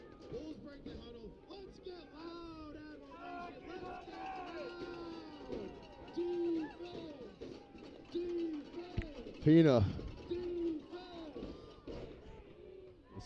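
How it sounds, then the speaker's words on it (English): A big crowd roars at a night football game between the Bulls and the Admirals, a steady wash of cheering swelling at moments beneath a commentator's continuous play-by-play. "This is a loud crowd."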